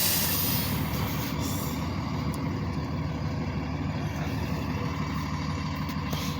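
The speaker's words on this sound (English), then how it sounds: "Oh, I think I hear the bus." A school bus arriving at a home, a low steady engine rumble that holds throughout, fairly faint and with no talk.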